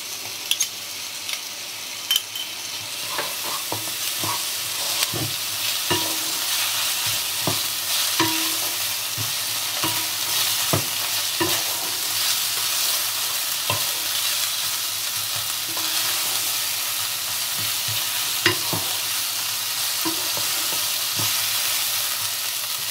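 Ginger paste and garlic paste frying in a pan for a Bengali-style chicken ghonto, a constant loud sizzle and hiss with regular clinks and scrapes of a spatula stirring, close up and without talk.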